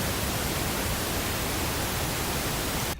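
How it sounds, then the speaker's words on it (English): Dense, uniform pink noise hisses loudly and without variation for about three seconds, then cuts off abruptly. "Pink noise it's like the ocean."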